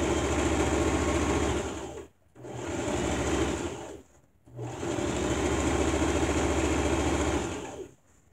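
A sewing machine runs in three long bursts, stitching a quilted pot holder with a long stitch length. Its motor gives a steady, rapid whir and needle chatter, close and loud, with brief pauses between runs.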